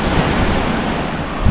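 Wind and sea waves on the Sardinian coast make a loud, steady roar of gusting air and breaking surf, close to the microphone with no voices.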